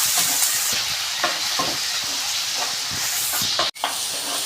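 Chopped onions and curry leaves frying for squid thoran, stirred steadily: a loud, close, crackling sizzle with rhythmic scraping strokes of the spoon and a brief dropout near the end, no speech.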